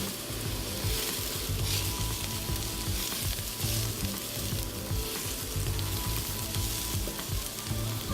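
Onions and garlic frying to a caramelized color, a loud, dense sizzle that holds steady and close from start to finish with no talking.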